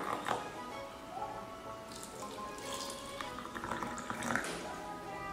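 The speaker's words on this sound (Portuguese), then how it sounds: "Agora eu vou vir com a água bem quente para fazer o nosso chá." Very hot water is poured over rosemary in a cup to make tea, a continuous splashing trickle with gurgling that rises and falls across several seconds, moderately loud and close.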